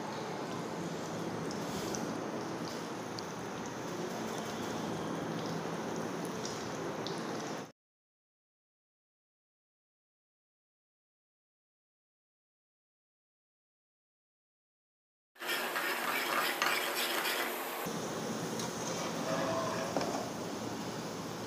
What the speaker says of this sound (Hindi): एकदम से पूरा नहीं डालेंगे, थोड़ा थोड़ा करके फ्राई करते जाएंगे